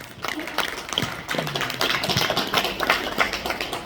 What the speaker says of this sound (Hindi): सभी लोग सम्मान में बजा दे ताली